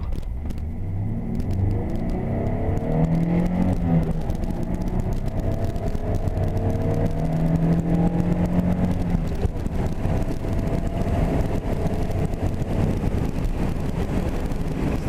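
A Nissan 300ZX pulls hard from 0 to 60, its engine rumbling and rising in pitch through the gears, loud and continuous, with wind buffeting the microphone throughout.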